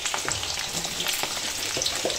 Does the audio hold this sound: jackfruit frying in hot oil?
yes